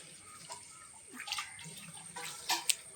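Monsoon spring water flows in a small stream, with a faint, soft trickle and a few splashy drips, quiet and close.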